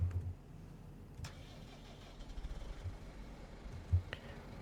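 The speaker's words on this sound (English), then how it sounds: "now we get in this tractor." A tractor engine cranks and starts in Farming Simulator 25, a low rumbling turnover followed by a steady mid-pitched idle with a brief rev near the end, heard alone without talk.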